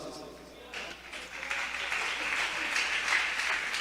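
Applause from a church congregation during a sermon, a broad rising patter of clapping that swells and stays steady, with voices mixed in beneath it.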